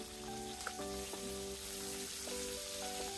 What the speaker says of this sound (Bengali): মাছগুলোকে ভালো করে আমি ভেজে নেব।